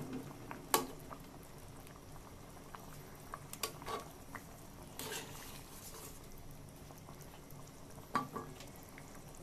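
Rohu fish curry with taro and potato simmering in a pot, a soft continuous bubbling with scattered small pops, fairly quiet and close.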